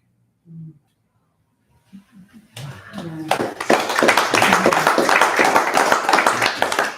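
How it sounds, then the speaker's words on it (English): Audience applause after a poetry reading at a spoken word event in a gallery, a dense burst of clapping that swells in and continues steadily, preceded by a few brief voice sounds. "Poets get more applause than prose readers."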